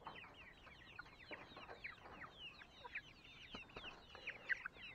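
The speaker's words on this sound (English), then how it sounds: "A guinea fowl. A fowl is what they are." A guinea fowl, an African fowl kept alongside chickens, calls at a distance with repeated harsh, chattering clucks. The irregular call carries faintly over farmyard background.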